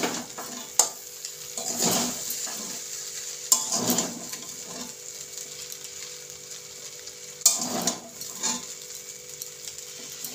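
Vegetables, egg and chicken stir-fried together for homemade chowmein: a spatula scrapes and tosses them in a hot pan in repeated bursts over a steady background sizzle, close and fairly loud.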